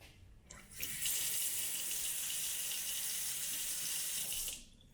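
Tap water runs steadily into a flat-basin kitchen sink in an apartment, with a GE oven and microwave nearby, beginning after a brief pause and holding a constant close hiss for several seconds before stopping abruptly.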